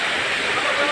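River water rushing and splashing in a loud, continuous broadband wash, close by and filling the brief moment without pause.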